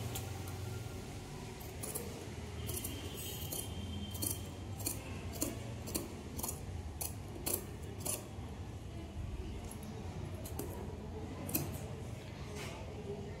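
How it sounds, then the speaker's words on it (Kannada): Scissors cutting blouse sleeve fabric while tailoring a four-tuck blouse, a long run of repeated crisp snips at an even rhythm, close but soft over a low steady background hum. "ಈಗ ನಾವು ಸ್ಲೀವ್ಸ್ ಅನ್ನ ಕಟ್ ಮಾಡ್ಕೊಳ್ಳೋದು."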